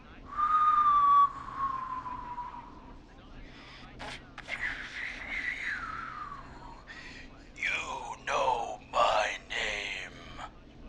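A man whistles a clear, sliding tune in the video game Killer Frequency, followed by strained, moaning vocal sounds and breathy gasps in short bursts over a low, steady background hum.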